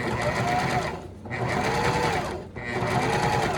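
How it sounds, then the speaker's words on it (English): A sewing machine stitches around the card-slot box of a ladies' wallet at about an eighth of an inch: three loud, close bursts of rapid needle chatter, each separated by a brief pause. "you're just gonna sew around this box at probably like 1/8 of an inch"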